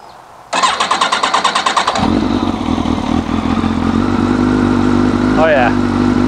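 A street fighter motorcycle cranks with a rapid, clattering starter for over a second, then fires up for the first time and settles into a loud, steady, rumbling idle. A brief vocal sound breaks in near the end.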